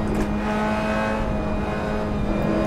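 A race car engine in Assetto Corsa at the Nürburgring GP circuit, loud and close, droning steadily at high revs with a constant whine and no talk over it.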